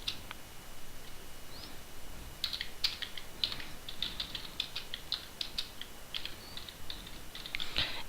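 Clicky keystrokes on a computer keyboard come in quick irregular bursts, close and crisp, with short pauses between runs and no talking.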